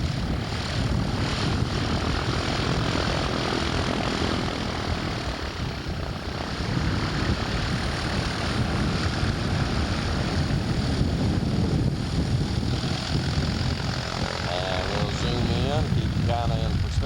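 A light propeller airplane back-taxiing on a runway after a first solo flight: a steady, droning engine and propeller hum holding continuously throughout, with faint voices underneath.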